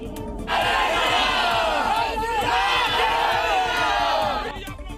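A protesting crowd of thousands blocks a road at a Kushinagar crossroads, a loud, sustained roar of massed shouting and chanting voices that fills the whole stretch before easing at the end.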